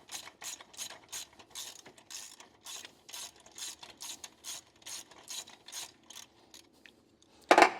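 Ratchet wrench backing out a bolt near the tensioner on a 2001 Ford Ranger 4.0L engine during teardown, a steady series of about fifteen close, crisp clicking strokes in regular rhythm, ending with a sharper metallic clank.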